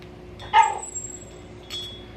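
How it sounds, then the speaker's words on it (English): A dog outdoors at night gives a single sharp bark followed by a short whine a second later, fairly close and moderately loud over a quiet background hum. "Got my pup out here tonight and she's starting to make some noise."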